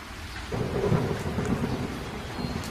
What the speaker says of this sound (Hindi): उसी तेज बारिश में कलुआ भीगते हुए मीनू चिड़िया के घर आता है।